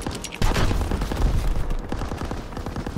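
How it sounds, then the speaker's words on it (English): Rapid, sustained gunfire rattles at infantry gathered near a tank in the Call of Duty WW2 video game, with dense overlapping shots and booming low thuds filling the whole stretch, loud and close. "They fire on the infantry by the tank."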